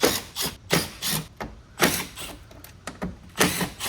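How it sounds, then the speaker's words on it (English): Hand-driven removal of T15 screws from side panels on a C8 Corvette Z06, heard as close, repeated ratcheting clicks and short mechanical bursts in an uneven rhythm, with no voices. "So first we'll go ahead and remove the T15 screws over on the sides."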